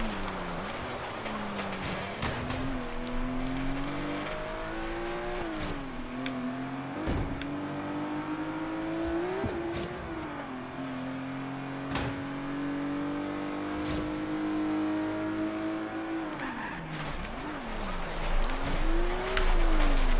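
A Pininfarina Berlinetta in Forza Horizon 3 drones steadily at high revs, its engine pitch rising and falling through gear changes, with a squeal of tyres near the end; loud and continuous, no talking.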